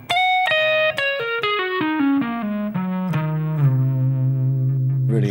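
Electric guitar with effects plays a descending Locrian scale, clear single notes stepping steadily downward to a long sustained low note, loud and close with no speech.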